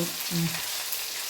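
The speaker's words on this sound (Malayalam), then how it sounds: "ചിക്കൻ ഒന്ന് മറിച്ചിട്ടോട്ടെ" Chicken pieces for chilli chicken frying in a pan, a steady close sizzle with a brief scrape or turn near the start as the pieces are flipped.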